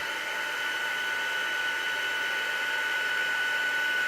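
A craft heat tool blows a steady, close, even hiss with a faint high whine while heating vinyl for a mixed media project, unbroken for the whole stretch.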